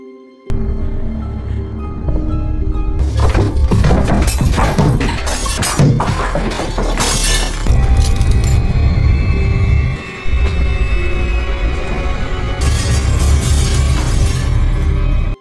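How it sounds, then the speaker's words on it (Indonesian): Window glass shatters in a film scene with a dense burst of crashing and tinkling fragments over a heavy low rumble. Loud cinematic sound effects continue throughout, and there is a later high, bright layer of falling shards. "Mark pun mendengar suara pecahan kaca dari jendela rumahnya"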